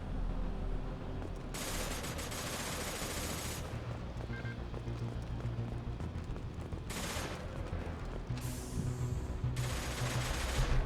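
Gunfire in the video game Mass Effect 2, sustained bursts of rapid automatic fire over a dense battle din, loud and continuous, with brief shifts as bursts stop and start.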